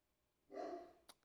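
A single short, muffled dog bark at a distance, faint and alone in a quiet room, followed by a small click.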